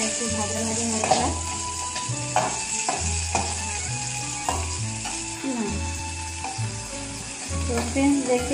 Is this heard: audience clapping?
no